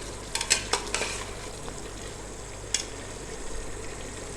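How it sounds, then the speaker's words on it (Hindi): Goat or mutton gosht browning in a pot for kado gosht, a soft steady sizzle with a few sharp scraping stirs near the start and another around the middle, no voices. "पहले मैं गोश्त को अच्छी तरह से भून लूँ"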